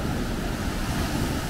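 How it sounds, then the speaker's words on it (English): Ocean waves pound a stormy Portuguese coast in a dense, loud, continuous roar of surf, mixed with heavy wind buffeting the microphone. No voices are heard. "The waves here are pretty awesome."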